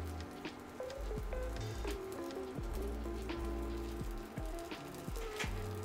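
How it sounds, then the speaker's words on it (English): Tortillas frying flat in hot oil for tostadas, a dense, close crackling sizzle with irregular pops and spatters that carries steadily throughout. "drop in your tortillas to get them to fry"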